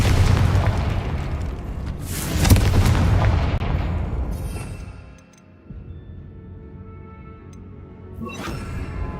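A Confringo blasting curse detonates in Hogwarts Legacy, a loud booming explosion with a broad rumbling burst that swells and trails off, followed by a lull and a second sharp magical blast near the end.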